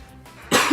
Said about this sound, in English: Still got this lingering cough